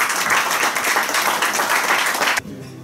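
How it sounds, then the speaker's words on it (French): An audience at a political rally applauds in a dense, sustained burst of clapping that cuts off abruptly near the end, leaving quiet background murmur. "Applaudissez pour vous-même."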